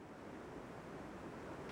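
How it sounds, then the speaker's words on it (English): Roaring, steady rush of water from the River Severn plunging over the Severn Breaks Its Neck waterfall, a dense continuous wash of sound with no breaks and no voices. "It makes a dramatic sight as it plunges over this waterfall, which is called the Severn Breaks Its Neck."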